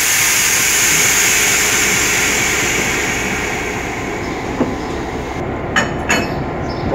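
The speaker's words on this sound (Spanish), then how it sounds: "comienzan las maniobras para el cambio de sentido de la locomotora" Steady rumbling train noise with a continuous engine drone, a few faint metallic clinks near the end as the locomotive moves slowly during shunting maneuvers to change direction at Luján station.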